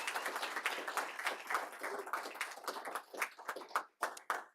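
Scattered, quiet clapping from the audience at a county commissioners board meeting for a lieutenant and a fire chief, thinning into a few separate claps near the end.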